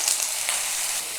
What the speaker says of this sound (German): Zunächst braten wir Garnelen. Auch wieder Öl etwas in der Pfanne,